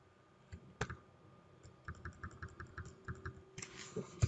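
Typing on a computer keyboard while entering SQL data, a run of close, quiet key clicks at an uneven, quickening pace with a sharper tap near the start.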